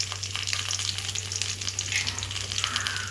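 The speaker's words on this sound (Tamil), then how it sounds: "சிம்மில் வச்சு நல்லா வறுக்கணும்" Spices such as cumin and coriander dry-roast in a pan on low flame, giving a soft, continuous rustle and scrape of stirring with faint crackling over a low hum, close by and with no talk.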